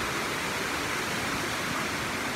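River water flows steadily and loudly along a reed-lined bank in Mixquiahuala, a continuous broadband rush with no gaps and no voices.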